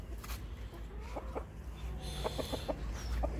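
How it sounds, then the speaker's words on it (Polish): A newly arrived Silkie rooster, an ornamental breed, gives a few short clucks and squawks up close, a scattered burst of calls over a low background rumble. "nowy kogut"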